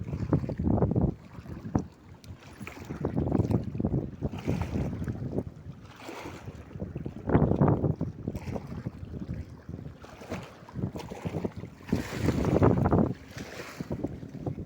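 Sea waves wash in and break on a shore in Saudi Arabia in repeated surges every few seconds, with strong wind buffeting the microphone.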